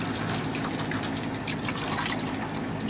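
Hot water is poured into a container to soak old piano keys, a steady close splashing trickle that runs without a break and with no one speaking.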